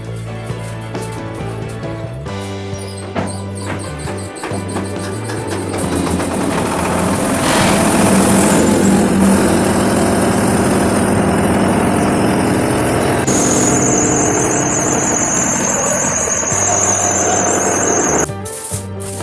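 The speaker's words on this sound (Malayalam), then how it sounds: "നിഞ്ചങ്കളിൽ ജനറേറ്ററാണ് നമ്മൾ ഓൺ ചെയ്ത് കണ്ടത്" A fishing boat's generator runs at close range, a loud steady mechanical drone with tonal whine that rises in intensity partway through and holds, with shifting metallic hums and clatter layered over it.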